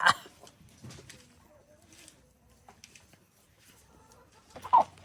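Farm chickens at their feed give scattered clucks, with a louder cluck near the start and another near the end, and quiet shuffling in between.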